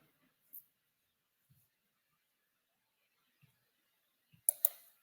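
A computer mouse gives a handful of faint, sparse clicks spread across a near-silent stretch, ending in a quick double click, with no talking.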